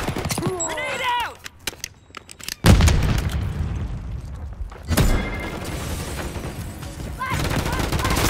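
A grenade detonates in Modern Warfare 3 multiplayer as a deep, loud boom that drops into near silence, followed by a second blast and scattered gunfire, with game voices calling out over the action.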